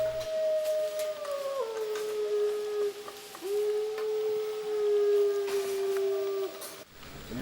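Wolves and wolf dogs at a wolf sanctuary howl together in long, sustained, gliding tones that rise and fall and overlap, fairly close and clear, continuing for several seconds before cutting off near the end.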